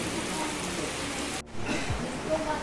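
Heavy monsoon rain in Devgad, Konkan, a dense continuous hiss of downpour close by, briefly cut off midway before resuming.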